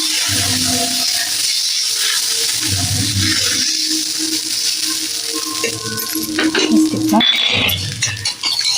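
Thick dosa batter for thavalai adai sizzles and fries in oil in a pan, a steady close crackle punctuated by utensil scrapes and clinks, with some faint speech in the background.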